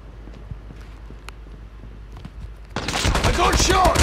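Gunfire in Call of Duty breaks out suddenly after faint scattered noises: a loud, dense burst of shooting and chaotic battle sound that fills the last second or so.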